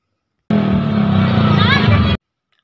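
Motorcycle engine droning steadily at a midnight New Year celebration in Bahay Bato, loud and close for about a second and a half amid crowd babble and festive noise.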